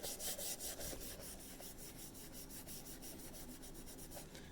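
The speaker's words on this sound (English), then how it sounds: "I'm gonna hit that with Scotch-Brite" A Scotch-Brite pad scrubs the cylinder bore of a Ford 427 FE top oiler engine in quick, regular back-and-forth strokes, a faint, close, rhythmic rasping with no voices.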